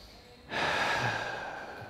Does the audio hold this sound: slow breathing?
yes